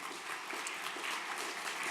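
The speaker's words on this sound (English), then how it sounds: "So give yourselves a round of applause." Brief, even applause from a morning conference audience of a few hundred at an IT Connect event, a soft steady patter of many hands heard from a distance.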